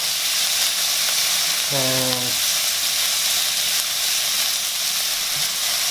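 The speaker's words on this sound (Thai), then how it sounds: "ใส่ซอสหอยนางรมนะครับผมสองช้อนโต๊ะ" Crab meat stir-frying in a wok with oyster sauce, a constant loud sizzle and hiss with a brief tonal clatter partway through, no talking.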